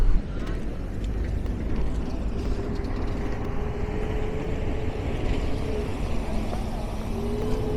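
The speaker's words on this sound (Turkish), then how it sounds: "Bursa doğru devam ediyoruz. Otobüsteyiz." Inside a moving Paris city bus, a low engine and road rumble drones steadily under faint background voices, with occasional light rattles.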